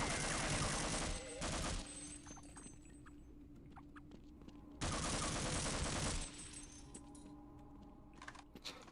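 Gunfire in the Half-Life video game, two long bursts of dense, harsh automatic shots at close range separated by quieter clattering game sounds.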